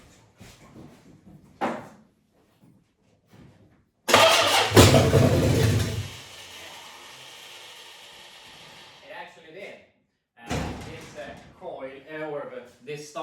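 The Satellite car's engine cranks on a weak, worn starter in a loud grinding burst, followed by a sustained running drone. Scattered clicks and clunks come before it, and a person talks near the end.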